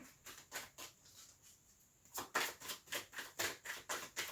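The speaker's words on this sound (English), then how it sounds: "when I drop all my damn cards, that is just a bad shuffle" Tarot cards being dropped and then shuffled, heard as a run of quick, evenly spaced papery riffles, softer at first, then a brief pause and a louder, faster series of close crisp flutters.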